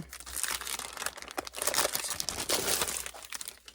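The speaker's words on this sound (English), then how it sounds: "I'm going to move the box." A cardboard box of Stampin' Up! fall craft supplies is shifted by hand, giving steady close crinkling, rustling and crunching of cardboard and paper with no talking.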